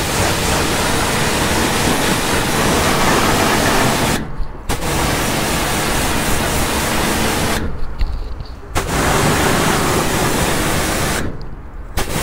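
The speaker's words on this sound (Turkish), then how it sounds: "şimdi motoru tekrardan suyla yıkayacağız." A car engine bay being rinsed by a strong water spray, a loud steady hiss broken by three short pauses as the spray stops and restarts.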